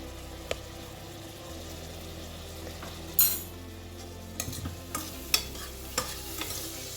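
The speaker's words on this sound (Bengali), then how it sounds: "দিয়ে ভালো করে নাড়তে থাকবো।" Chicken pulao with salt and chilli powder is stirred in a pot, a low steady frying hum under a few distinct spatula scrapes and clinks that come in a loose series after a quiet start.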